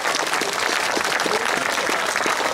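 Dense, continuous applause fills a hall at a concert festival held in memory of a bard, many hands clapping loudly and evenly throughout.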